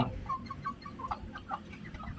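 Hen with young chicks about two months old by a canal, clucking softly in short, scattered calls under low rustling background noise.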